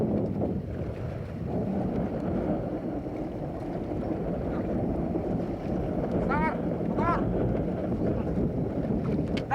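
A motorboat travels toward Labuan in Indonesia, its engine drone and rushing water steady and loud throughout, with wind buffeting the microphone and a couple of brief high whistles or calls near the end.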